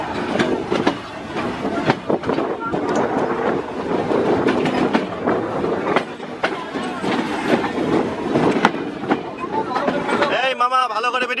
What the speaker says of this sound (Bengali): আমাদের ট্রেনটি ছুটে চলেছে তার নির্দিষ্ট গন্তব্য স্থানে।